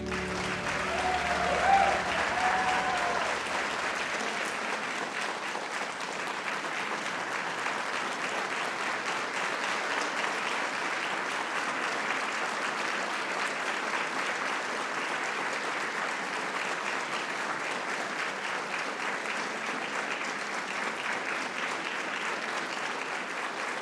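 Sustained audience applause at a portrait unveiling ceremony, a steady dense wash of many hands clapping that continues evenly for over twenty seconds, with a brief louder burst near the start.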